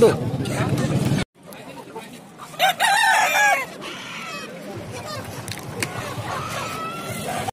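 Madras-breed chickens at a Sunday poultry market in Yavatmal, with a rooster crowing loudly mid-clip amid clucking fowl, while people talk nearby and market chatter fills the background.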